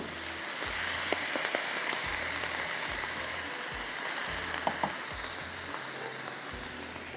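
Parboiled rice goes into a hot pot of tarka for a Delhi nihari-style dish, giving a steady, bright frying sizzle with scattered small crackles and low repeated thumps underneath, no talking.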